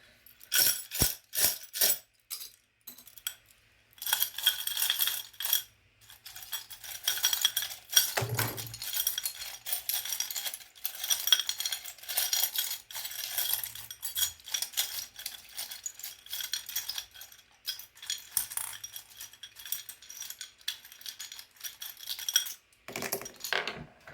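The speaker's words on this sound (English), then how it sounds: "I'm gonna be shuffling charms" Small metal tarot charms are shuffled and jostled together, producing bursts of bright clinks, jingles and rattles that come and go in irregular clusters, close and fairly quiet, with short pauses between handfuls.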